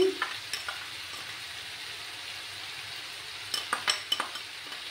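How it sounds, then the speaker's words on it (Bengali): A mustard and poppy seed spice mix is stirred in a frying pan with a bottle gourd peel dish, a steady sizzle under scraping spoon strokes, with a cluster of clinking stirs near the end. "এবার আমি এই যে মশলাটা সর্ষে আর পোস্ত দানা মিক্স করে দিচ্ছি"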